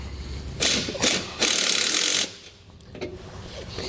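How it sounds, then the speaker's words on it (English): Tightening a nut on the brace of a MORryde scissor jack cross brace stabilizer on a camper trailer: harsh bursts of metallic ratcheting and grinding in short spurts, close and fairly loud, followed by lighter clicks. "we'll install the nut, and then we'll tighten it down"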